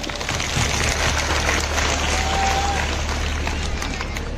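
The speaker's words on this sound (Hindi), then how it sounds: "एक जोरदार तालियां दीजिए।" Sustained applause from a school audience at a magician's show, a dense, even wash of clapping and crowd noise that holds throughout.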